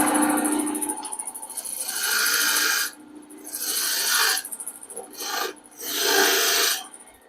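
Lathe tool cutting a V-notch into spinning wood while turning a candlestick holder, a rasping, scraping cut in three or four long bursts separated by brief quieter gaps.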